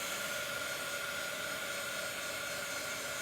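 Steady, even whooshing of a hair dryer blowing continuously at close range to dry ink, a constant broadband rush with a faint whine, no voices.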